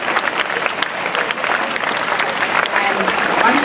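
Applause for participants at a school investiture ceremony: a room full of people claps steadily and vigorously throughout, with some voices mixed into the clapping.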